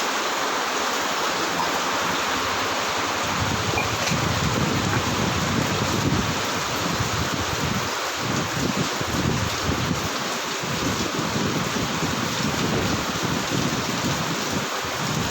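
Steady, heavy rain pours down continuously at midnight in Mayiladuthurai, a dense loud hiss with low rumbling underneath and no voices.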